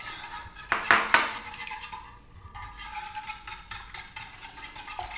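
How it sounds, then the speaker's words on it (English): Eggs are whisked into a warm milk, sugar and egg custard mixture for challah bread pudding, making metal whisk clinks and scrapes against a bowl, with a louder burst early on followed by steady, quieter rhythmic stirring. "Whisking also helps that if your milk mixture is still a little warm"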